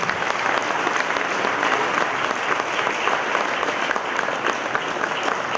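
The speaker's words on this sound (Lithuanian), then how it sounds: "aš manau, kad reikėtų dar gausesnių aplodismentų jiems" An audience applauds a band with dense, sustained clapping that fills the space evenly from start to finish, loud and close without pause.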